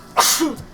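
A single close sneeze, a sharp intake followed by a bright burst that fades quickly, with nothing else around it.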